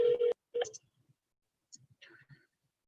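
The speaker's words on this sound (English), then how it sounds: "Let's see if they pick up the phone." A phone dialing an outgoing call gives a couple of short electronic tones, then a faint connecting click and brief ringing-line sounds, close and quiet.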